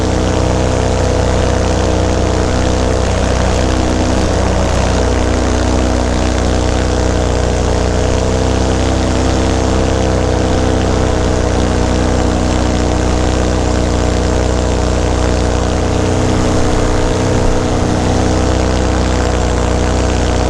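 A paramotor engine runs steadily with a loud, continuous propeller drone and harmonic hum, holding nearly constant throughout with no voices.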